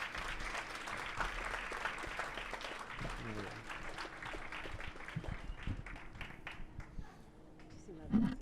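Applause at a book presentation, a soft, distant wash of clapping from an audience that fades somewhat near the end, with faint voices mixed underneath.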